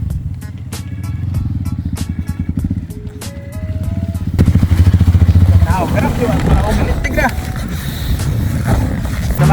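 Trail motorcycle engine revving and idling with rattling clatter, close and loud, rising in intensity midway while a person talks over it.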